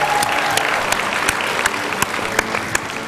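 A studio audience at an X-Factor Armenia audition applauds a contestant with dense, sustained clapping, sharp individual claps popping out of the steady roar, no voices over it.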